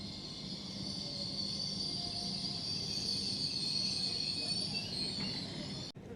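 A five-car Hull Trains Paragon service from Hull to London King's Cross pulls into Retford station on the East Coast Main Line, a steady rumble and hum with a faint high squeal, fairly distant and constant.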